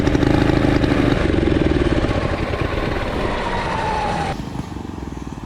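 A turbocharged mini bike engine screams at top speed, loud and close, with a steady high whine that holds for about four seconds before dropping off sharply as the throttle closes.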